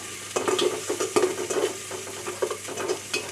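Garlic and ginger paste frying in oil, with a steady sizzle and repeated close scraping stirs at an uneven rhythm.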